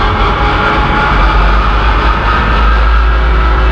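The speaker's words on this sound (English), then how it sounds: "you can hear the Discmower is running" Massey Ferguson DM164 disc mower driven by a 2850M tractor, a loud, close, steady low engine drone with a constant whirring hum over several seconds, no talking.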